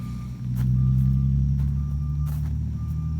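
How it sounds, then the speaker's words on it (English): Road traffic with trucks passing nearby, a loud low engine drone rising in and holding steady, with a repeating high reversing-style beep pulsing over it. "There's a lot of traffic out today"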